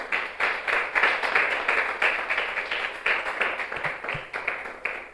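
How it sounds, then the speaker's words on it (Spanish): A church congregation claps in a fast, steady rhythm, many hands together filling the room at moderate volume with no talking over it. "¿Puede aplaudir eso también?"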